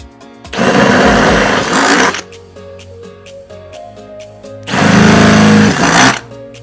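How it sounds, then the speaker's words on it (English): A power drill whirs loudly in two bursts of about a second and a half each, drilling holes in a Jeep JK fender, separated by a quieter pause, close by. "we're going to go ahead and drill these holes"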